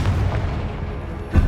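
A Confringo explosion spell cast in the Hogwarts Legacy video game, a loud, booming blast with a deep low-end burst and a second thump near the end.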